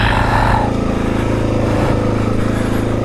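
A Suzuki DRZ dirt bike climbs a hill at steady, low throttle, its engine a loud, continuous, close thrumming drone without big revs, alone with no talk.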